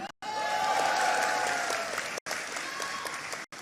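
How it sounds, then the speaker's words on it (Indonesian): A crowd at a campaign gathering in Riau claps steadily for several seconds, the applause broken by two brief silent cuts, with faint voices and a tonal hum carrying underneath. "Tepuk tangan."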